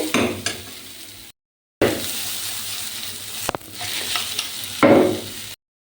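Eggs frying in a pan for a dhaba-style egg tadka: bursts of close sizzling and stirring scrapes broken by short silent cuts, with a louder hiss near the end.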